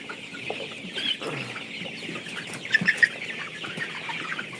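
Young chickens on a small farm, raised from day-old chicks, cluck in a low murmur, with a short cluster of sharper calls near the middle rising above the steady background.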